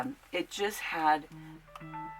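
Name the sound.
mobile phone sound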